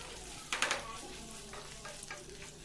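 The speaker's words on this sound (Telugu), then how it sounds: "మనకి పచ్చిమిర్చి అవన్నీ బాగా ఫ్రై అవ్వాలన్నమాట" Green chillies and ginger fry in oil for pulihora, a soft close sizzle with a burst of stirring scrapes near the start and lighter stirring afterward, quiet and without speech.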